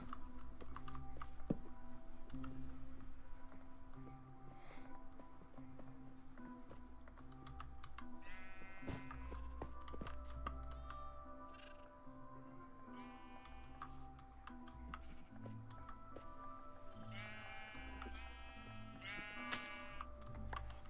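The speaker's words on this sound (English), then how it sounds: "Black sheep." Sheep in Minecraft bleat several times in wavering calls, mostly later in the stretch, over a steady bed of game music and frequent quick keyboard and mouse clicks.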